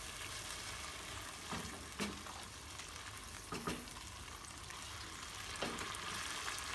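Hot water and Padang sauce bubble and sizzle in a pan of clams, a steady close crackle broken by a few sharper pops and stirring scrapes.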